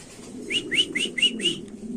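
Pigeons, Sirazi among them, stir at a seller's stall, giving five quick, bright chirping calls in a steady run over a low, murmuring background hum.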